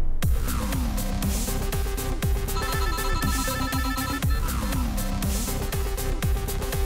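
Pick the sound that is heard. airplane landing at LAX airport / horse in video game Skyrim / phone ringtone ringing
phone ringtone ringing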